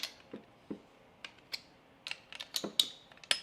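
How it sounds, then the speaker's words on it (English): Derya DY12 shotgun barrel nut being snugged down with a Derya tool, giving a string of small metallic clicks and ratcheting ticks, close and fairly quiet, spaced irregularly and growing busier toward the end. "thread it on by hand using our Derya tool once again, giving it a nice little snug"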